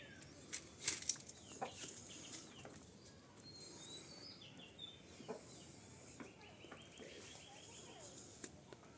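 Tiger and local deshi chickens at a poultry farm in Kaliganj, Gazipur, with scattered faint clucks and wing flaps over a quiet, distant barnyard background.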